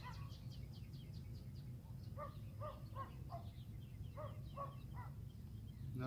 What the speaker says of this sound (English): And just noticing the sounds, the birds.